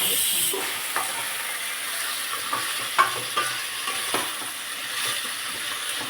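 Mutton with turmeric sizzles steadily in a pan while a spoon scrapes and stirs with occasional clinks against the metal, close and continuous with no talking.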